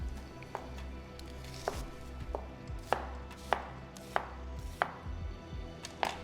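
A knife chops an onion into big chunks on a board, a dozen or so sharp, uneven knocks ringing out close and clear, with no talk.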